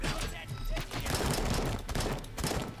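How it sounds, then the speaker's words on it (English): An AK rifle fires in the video game RoboCop: Rogue City, a loud, dense stream of rapid shots with thuds and impacts packed close together and barely any break. "The recoil is nuts on the AK."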